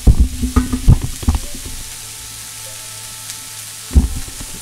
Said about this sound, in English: I'm just going to go ahead and continue to caramelize the onions.